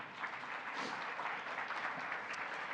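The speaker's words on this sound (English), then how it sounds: "That's worthy of a round of applause." Brief burst of applause from a conference crowd at a government hiring expo, honoring a Presidential Rank Award recipient, a continuous even patter of many hands.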